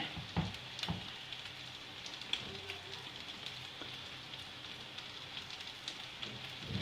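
Köfte meatballs sizzle in a fish frying pan with a soft, quiet crackle, sprinkled with small irregular pops and ticks over a low steady hiss.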